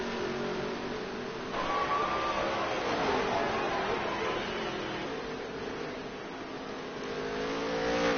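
Dirt track race cars in a NOSSCAR Dirt Touring Series race at Eldora roar continuously, their engines droning and revving in a loud, steady wash of sound with some rising pitch sweeps as cars pass, under an announcer's commentary.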